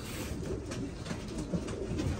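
Kakite pigeons coo softly in a low, repeated murmur against steady background noise, faint and continuous with no talk.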